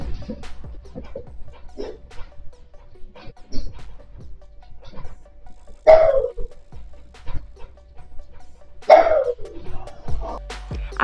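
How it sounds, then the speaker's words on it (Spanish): A dog barks in two loud, strained bursts a few seconds apart during an earthquake in Bucaramanga, Colombia, with quieter yelps and scattered background noise between them. "se escucha como un perro ladra desesperadamente"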